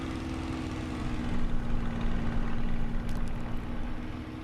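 Supermarine Spitfire LF Mk IXc engine in Microsoft Flight Simulator, droning steadily then swelling and sagging slightly as power drops under G load, loud and continuous with no talk.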